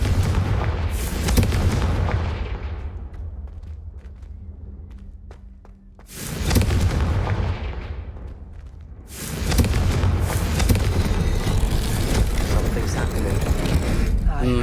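Explosive Confringo spell blasts in the video game Hogwarts Legacy: two loud, booming bursts a few seconds apart, each fading into a rumbling decay over background game sounds.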